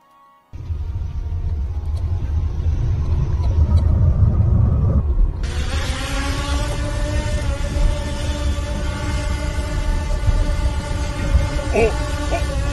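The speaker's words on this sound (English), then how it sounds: "Iranian man played the sound of a drone on his car radio" A military drone's buzzing hum played through a car radio at a checkpoint, a loud steady droning rumble that shifts to a brighter, layered tone midway and continues without pause.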